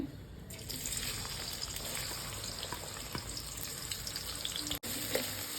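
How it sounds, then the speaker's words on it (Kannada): Chopped onions, about three, frying in roughly six or seven spoons of hot oil for a chicken fry, giving a steady, dense sizzle that runs continuously and fairly close throughout, with no talking. "ಈಗ ಅಲ್ಲಿ ಈರುಳ್ಳಿ ಫ್ರೈ ಆಗ್ತಾ ಇದೆ."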